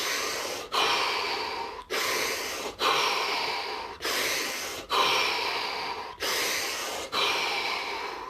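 Deep breaths taken in a slow, steady rhythm, about eight long inhales and exhales in sequence, each ending in a short sharp catch, close and clear with no talk over them.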